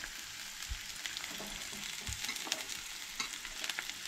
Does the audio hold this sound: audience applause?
no